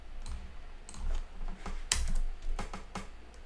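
Fingers type on a computer keyboard at close range, a quiet, irregular patter of key clicks with small pauses and one sharper tap partway through.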